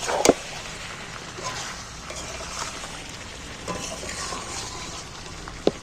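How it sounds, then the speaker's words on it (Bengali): Chicken pieces stirred with salt in a hot frying pan, giving a steady sizzle and soft scraping with a few sharp utensil clicks against the pan, close and alone. "এইবার নুনটা দিয়ে নাড়াচাড়া করে নিচ্ছি"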